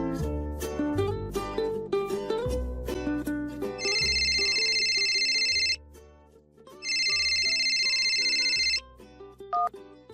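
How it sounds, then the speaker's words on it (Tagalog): A cellphone rings with a bright electronic ringtone in two long bursts over background music, loud and close, during a Tagalog radio drama. "nagulat na lamang ako nang may tumatawag na unknown number sa aking cellphone"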